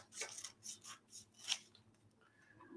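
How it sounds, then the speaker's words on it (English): Scissors cutting paper into strips, heard as a few quiet snipping and rustling strokes in an irregular rhythm, faint and close, with no speech. "you might find it easier to do strips with scissors"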